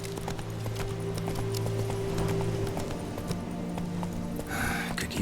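Horse hooves clip-clop in a quick galloping rhythm in The Witcher 3 video game, with a steady low background hum and a brief whinny-like burst near the end.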